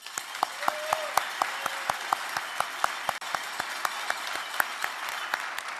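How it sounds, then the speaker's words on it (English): Audience applause at a Joint Staff annual military award ceremony: dense, steady clapping from a large crowd with a few sharper individual claps standing out, holding throughout. "and a round of applause, please."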